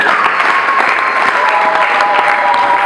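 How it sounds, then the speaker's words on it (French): Guests applaud at a 50th anniversary celebration honouring a priest. The clapping is loud and close, with a dense, continuous crowd patter and no break from start to end. "On applaudit s'il vous plaît."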